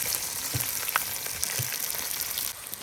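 Whole spices such as dried red chillies, cardamom, cinnamon and cloves sizzle and crackle in hot oil, a steady close frying hiss with a few soft pops and stirring taps, no talking.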